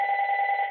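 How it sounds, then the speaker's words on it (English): A phone rings over a conference line during a public board hearing, a brief steady electronic ringtone with a bright two-tone buzz that sounds alone for under a second. "I know it's not my phone ringing"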